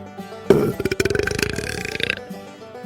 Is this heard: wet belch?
yes